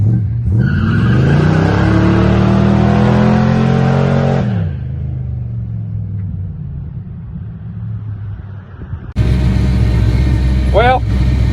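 A supercharged 1955 Chevy with a Vortech V3 blower roars loudly during a burnout, revving up and holding high, then dropping to a rumbling idle before a second loud burst with squealing tires.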